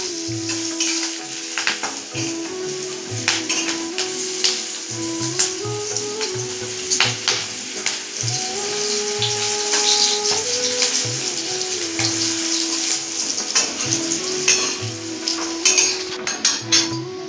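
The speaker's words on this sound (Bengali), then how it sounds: "কচুটা ভাজা হয়ে গেছে" Taro leaves frying in a wok with a steady broadband sizzle and intermittent clatter of a utensil against the pan, close and fairly loud, with no talking.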